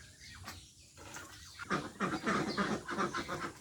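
Chinese ducks on a farm after days of steady rain, a brief cluster of quacks and honking calls rising in the latter half, moderately close, with light background noise.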